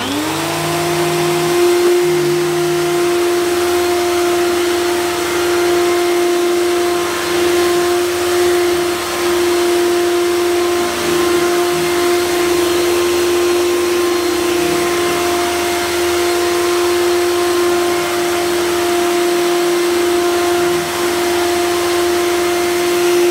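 An Electrolux Contour Z1460 800-watt vacuum cleaner runs steadily over carpet during a house clean. Its loud motor whine holds an even drone for over twenty seconds, with slight shifts as the head moves and no talk.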